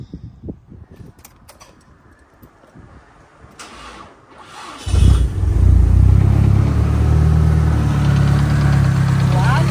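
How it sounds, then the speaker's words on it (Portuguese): A car with a weak battery is started after some low rattling and muffled sounds. The engine then catches and settles into a loud, steady, rumbling idle close by. "Vamos dar uma partidinha agora pra ver?"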